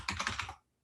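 Quick burst of keystrokes on a computer keyboard entering a command on a web server, a fast clatter of several keys that stops abruptly.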